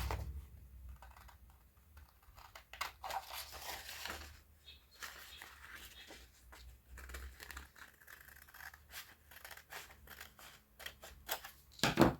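Scissors trim one-sided card-stock during a paper craft project, giving a run of close, crisp snips and crinkly paper handling that carry on steadily throughout.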